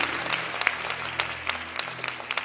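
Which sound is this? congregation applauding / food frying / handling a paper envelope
congregation applauding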